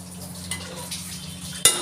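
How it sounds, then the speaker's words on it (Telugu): Marinated keema frying and being stirred in hot oil in a kadai, with a steady close sizzle, scraping and clinking of a spoon against the pan, and a sharper metallic knock near the end. "ఆయిల్లో బాగా కుక్ చేయాలి"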